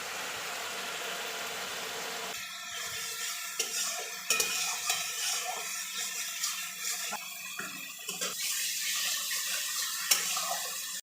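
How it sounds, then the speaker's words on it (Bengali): Spices sauté in two pans at once for a rohu fish curry and a fish-head muri ghonto, with soft frying hiss under repeated scraping and clinking from spatulas stirring, fairly quiet and close. "দুই দিকে মশলা কষা চলছে, এদিকে মাছেরটা হচ্ছে আর এদিকে মাছের মাথার মুড়ি ঘন্টার মশলা কষা।"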